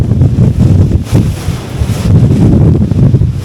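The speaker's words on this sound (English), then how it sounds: "it is very windy" Strong wind buffets the microphone beside the River Wear on a Christmas Eve walk, loud rumbling gusts that rise and fall in waves throughout.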